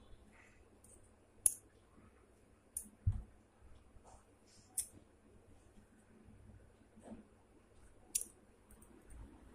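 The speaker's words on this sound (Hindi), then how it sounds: "इस टाइप से ये जो हमारा एक्स्ट्रा कपड़ा है इसे हम काट देते हैं।" Scissors snipping away extra fabric while sewing a neck design at home, a handful of quiet, crisp clicks spaced unevenly over a hushed background.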